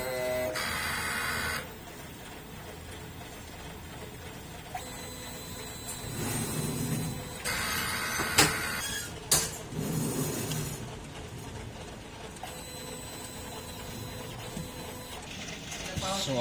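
A DTF printer runs its head cleaning cycle, with mechanical whirring, pump hum and carriage movements rising and falling in bursts, plus sharp clicks and knocks, while a person talks quietly at times.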